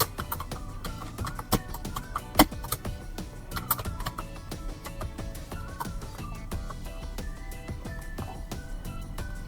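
Typing on a computer keyboard while entering data into Google Sheets, close, steady key clicks in an uneven rhythm with a few sharper taps, over quiet background music and no speech.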